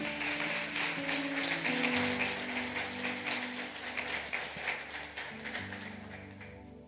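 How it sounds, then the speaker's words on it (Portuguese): A church congregation applauds at the end of a worship service, a steady patter of many hands clapping that gradually thins out, with faint voices and instrumental tones underneath. "Quem pode aplaudir a Deus por esse culto?"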